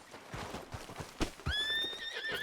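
A horse in the video game Red Dead Redemption 2 clip-clops along with quiet hoof thuds, then lets out a clear rising neigh that wavers for about a second near the end.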